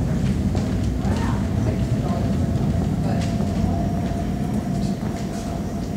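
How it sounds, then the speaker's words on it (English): An eight-car BART train to Dublin/Pleasanton arrives at Powell Street station's underground platform, a continuous loud rumble and rail roar with faint squeals, while a station announcement plays over it. "Eight car, Dublin, Pleasanton train, now approaching platform 2."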